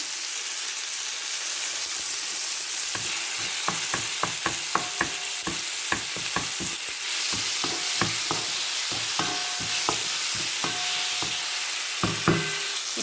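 Fenugreek seeds fry in a pan of oil for a shrimp and capsicum rice, giving a steady hiss broken by sharp, irregular spoon clicks and scrapes against the pan, with no talking.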